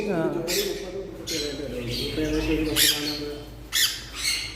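A pet bird in a pet shop in Thiruvananthapuram gives repeated harsh, bright squawks, about six short bursts, over continuous nearby talking.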